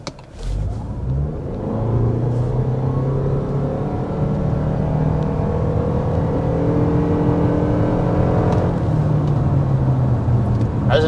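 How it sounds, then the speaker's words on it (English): A 2026 Toyota RAV4 Limited hybrid accelerates hard in sport mode, its engine note rising smoothly through a long, loud climbing drone heard from inside the cabin, with a brief shift and dip near the end. "There's another acceleration. That time we were in the sport mode."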